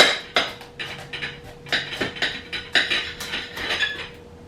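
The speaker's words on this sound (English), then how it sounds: "just chop it up into kind of little pieces" Knife chopping pumpkin pulp into small pieces on a board, a quick series of sharp, close taps and clicks in an irregular rhythm, with no talking.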